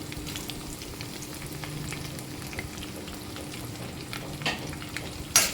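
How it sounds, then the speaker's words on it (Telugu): Curry leaves with dried and green chillies tempering in hot oil alongside urad dal, cumin and mustard seeds, a close, steady frying hiss with light crackles and a sharper burst at the end. "కరివేపాకు ఎండుమిరపకాయలు వేస్తున్నాను అలాగే పచ్చిమిరపకాయలు వేస్తున్నాను"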